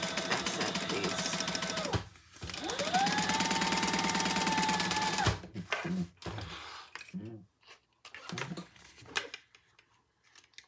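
A sewing machine bastes leather in two steady bursts of rapid stitching, one short and one longer, followed by scattered clicks and handling noises close by.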